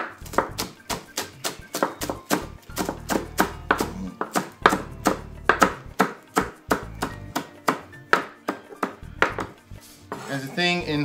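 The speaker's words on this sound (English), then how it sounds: "All right, chop them up." Scallions being chopped with a knife on a cutting board, a close run of sharp, evenly spaced knocks about two or three per second, briefly pausing and then speeding into a quick rattle at the end.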